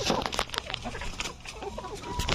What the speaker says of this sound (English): So you're telling me these are chickens?